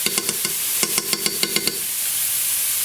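Sausage cooking in a pan for a casserole, a bright steady sizzle with a quick run of close tapping knocks from a utensil against the pan, then sizzle alone.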